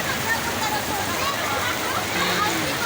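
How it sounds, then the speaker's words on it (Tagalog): Swift river current surging in waves, a steady, close, full-bodied watery rush that continues without a break for the whole stretch. "umaalon yung agos ng tubig oh"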